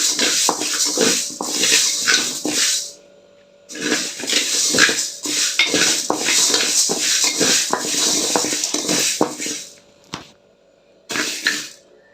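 Spices for sambar masala dry roasting in a pan, heard as repeated rattling and scraping strokes of a spatula against metal, close and loud, pausing briefly a few times, with no talk.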